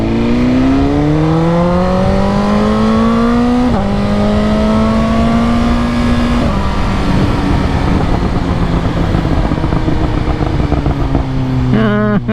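A 2022 BMW S1000R M Package motorcycle with Arrow headers and an Akrapovic exhaust revs loud and close, its engine note climbing in steady rising sweeps through the gears before a crackling, popping burst at the end.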